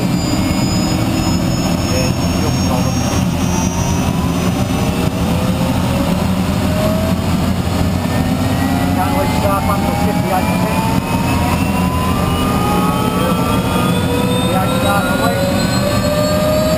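A Bell 206 JetRanger helicopter turbine spools up during a ground start-up, a loud steady roar with a whine rising in pitch throughout, heard close and without pause.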